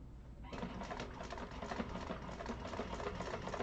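A flatbed sewing machine top stitching a tote bag starts up after half a second and runs as a steady rapid mechanical whir, close and even with no talk.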